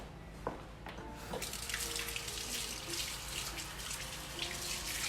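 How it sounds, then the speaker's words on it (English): Kitchen tap running at a sink while hands are washed, a steady close hiss of flowing water with faint splashes, no talking. "I'm gonna wash my hands really quick."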